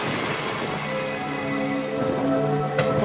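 Steady rain falls and patters on surfaces, a dense even hiss close by with a few sharper drops and faint tonal background sound underneath.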